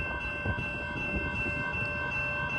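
A Union Pacific freight train climbing the Palmdale Cutoff near Lone Pine Canyon gives a steady low rumble with sustained tonal hum lines, heard from fairly close and continuous throughout, no voices.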